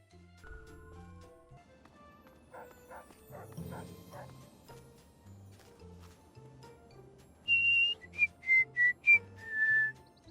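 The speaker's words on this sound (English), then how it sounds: "You whistling there, Betty?" Whistling in the Fallout video game: a short run of clear, tuneful whistled notes near the end, after quieter game sounds with soft background music and dialogue.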